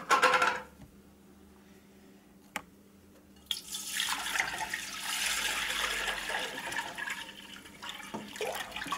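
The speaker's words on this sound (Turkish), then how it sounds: "Şimdi öncelikle sütümüzü tenceremize boşaltıyoruz." Raw milk poured into a pot in a kitchen: a steady liquid gush starts after a few seconds and keeps running, preceded by a short knock and quieter handling noises.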